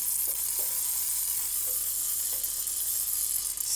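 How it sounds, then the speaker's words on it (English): Olive oil is sprayed onto food being prepped for an air fryer, giving a steady, close hiss that runs through the whole clip, with a few faint clicks beneath it. "So I'm just going to spray some olive oil on there."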